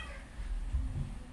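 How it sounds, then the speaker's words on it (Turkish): A house cat gazing outside lets out a meow, a short, moderately close call against a quiet indoor background. "Dışarı bakıp bakıp miyavlıyor."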